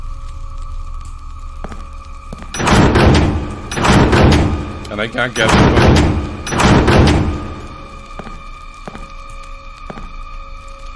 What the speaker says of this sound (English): the door just closed behind me